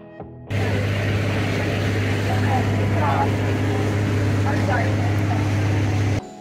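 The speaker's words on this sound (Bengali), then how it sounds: "আর তারপর বোট ছাড়লো" Loud, steady engine drone of a boat pulling away from Hong Island in Krabi, a constant low hum running throughout with splashing and faint voices on top, cutting off abruptly at the end.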